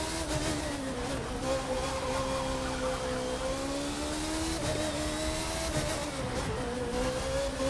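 A Red Bull Formula One car in The Crew 2 racing game holds a continuous high-pitched engine whine, its tone sliding up and down through gear changes and corners on winding roads, loud and steady throughout.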